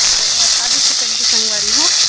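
Curry leaves sizzling in hot oil in a kadai, a steady broadband hiss with voices talking over it throughout.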